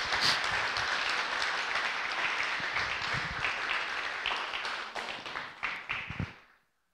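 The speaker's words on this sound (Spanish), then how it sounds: "¿Por qué no le das un aplauso a Dios?" A church congregation applauds together, producing moderately loud, dense clapping with distinct sharp claps standing out. It continues steadily, then thins into a few scattered claps before stopping abruptly into silence.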